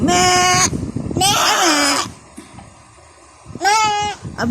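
A voice imitates a goat bleating, giving three loud, close, quavering "meh" cries with short pauses between them.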